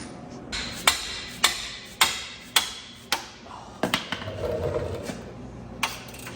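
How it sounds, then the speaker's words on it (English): A hammer strikes a ratcheting wrench about seven times in a steady rhythm, sharp ringing clanks up close, followed by a brief rattle and one last hit, while disconnecting parts on a Jeep JK. "You should always hit ratcheting wrenches with a hammer, right?"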